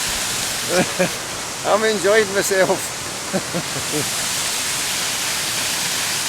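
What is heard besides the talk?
Benlister Falls waterfall, Lamlash, Isle of Arran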